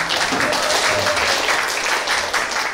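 Applause for a team at a church women's group Bible quiz contest held in a room, a steady wash of clapping from a crowd throughout, with faint voices mixed underneath.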